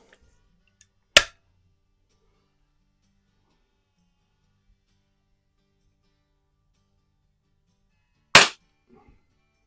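Two crisp, loud shots from a Webley Nemesis air pistol ring out at a target in a garage, spaced about seven seconds apart, each a sharp close snap in near silence with small clicks nearby.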